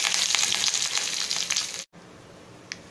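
Curry leaves and mustard seeds sizzling in hot oil for urad dal tomato chutney, a loud crackling hiss with popping that cuts off abruptly, leaving a quiet background and one brief tap.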